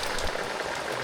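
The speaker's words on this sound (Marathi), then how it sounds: "आम्ही जसं आतमध्ये घरात आलो तसा पावसाने सुरुवात केला." Monsoon rain in the Konkan countryside falls as a steady, dense hiss of drops with no pauses and no voices.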